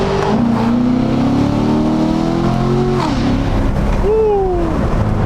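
A Corvette Stingray with a loud exhaust revs and accelerates while driving; the engine rises through gears with pitch sweeps and a shift, loud and close from inside the car.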